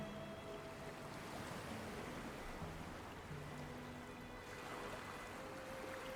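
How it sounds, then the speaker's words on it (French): Distant ocean waves, a steady, soft wash of surf that continues evenly throughout, with faint low tones drifting underneath. "Le son des vagues au loin."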